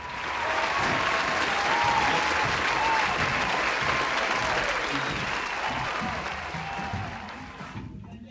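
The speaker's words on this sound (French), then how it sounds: "un tonnerre d'applaudissements pour William et Hicham." A studio audience gives a sustained, loud burst of applause for two guests, steady clapping that fills the room and slowly tapers off at the end.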